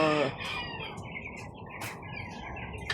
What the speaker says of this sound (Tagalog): Yan yung mga sisiw.